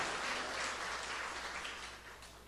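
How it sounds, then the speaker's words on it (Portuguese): A church congregation claps in a brief burst of applause that fades away over a couple of seconds. "Vamos aplaudir que ele é maravilhoso?"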